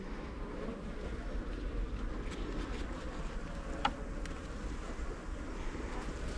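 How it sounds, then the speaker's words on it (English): A wasp buzzes at the front of a beehive during an inspection, a faint insect drone over steady wind and outdoor hum, with a single brief click partway through. "Right, wasp at the front."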